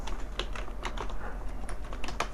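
Rapid keystrokes clatter on a computer keyboard as a search is typed, a close, uneven run of light clicks over a low steady hum, with no talk.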